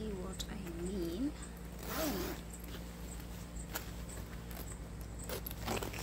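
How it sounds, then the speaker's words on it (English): A leather jacket zipper runs up in short rasping pulls, with faint jangling and rustling of clothing, close to the listener. "wacha nifunge zipper so you can see what I mean"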